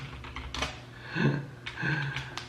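A handful of close keyboard taps while writing a social media message on a phone or computer, soft and irregular over a steady room hum.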